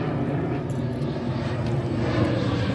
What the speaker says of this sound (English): Is it a prop plane or a jet plane?